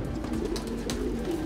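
Soft low cooing from a pigeon, repeated murmuring phrases over a steady background hum, fairly close.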